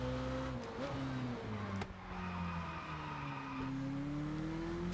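Engine of a car launching from a standing start and pulling hard in the Test Drive Unlimited Solar Crown racing game, a steady loud drone rising in pitch through the run with a brief shift dip, no talk over it.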